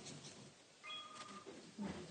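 A cat gives a short, faint meow in a quiet room, followed by soft mewing sounds.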